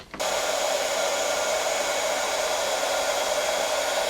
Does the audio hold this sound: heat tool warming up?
yes